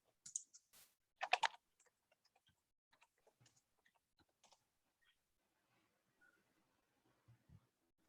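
Quiet, sparse keystrokes on a computer keyboard as a name is typed in, a few louder clustered taps at first followed by scattered faint clicks over near silence.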